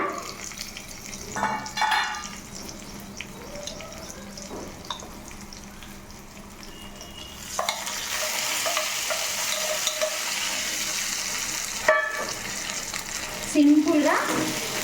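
Gongura paste being stir-fried in a pan, with a quiet start and then a louder steady sizzle, scraping stirs and a few clattering knocks against the pan.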